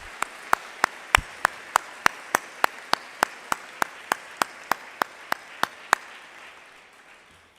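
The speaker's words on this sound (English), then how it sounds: "Let's give them a round of applause and thank you for your service." Hands clap in a steady, evenly spaced rhythm at a Veterans Day program: about twenty crisp, close claps that stop abruptly, leaving a quiet room tone.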